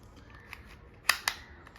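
Two quick, close plastic clicks a fraction of a second apart as the battery cover snaps shut on a Piranha 2395 smart remote control, in a quiet room.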